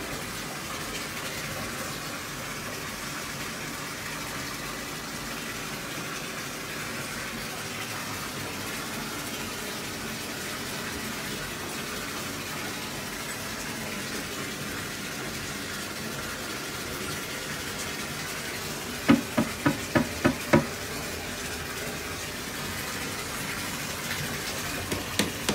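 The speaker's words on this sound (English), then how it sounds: "He heard his bathwater running and was drawn to the noise." Bathwater runs from a tap into a bathtub as a steady, continuous rushing gush that fills the room. A few short knocks or clatters sound near the end.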